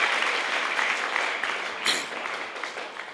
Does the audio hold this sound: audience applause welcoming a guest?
yes